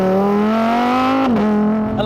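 A Lamborghini STO engine is revved hard, a loud, close, tonal roar that climbs steadily in pitch, then drops sharply and settles into a lower drone, with no talk.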